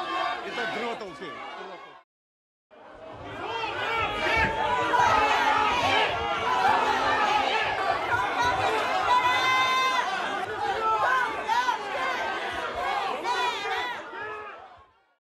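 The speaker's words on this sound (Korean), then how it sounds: "뭐 송영길 이렇게 환호하는 목소리가 울려 퍼졌습니다" A crowd of supporters outside the Seoul Central Prosecutors' Office cheers in a loud, dense clamor of overlapping shouts and chants, broken by a brief silent gap early on before swelling again and holding steady.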